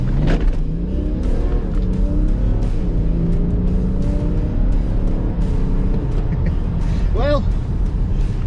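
Two BMW 330d cars, an F30 saloon and an F31 touring, one remapped, accelerating hard from a start in sport mode, a loud steady engine roar with a voice talking over it and a brief squeal near the end.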